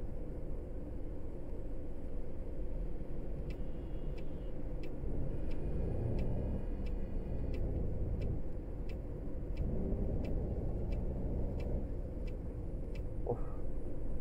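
A bus engine in Fernbus Simulator drones steadily as the coach drives along, a constant low rumble with road noise throughout and faint high ticks of an indicator in the middle section.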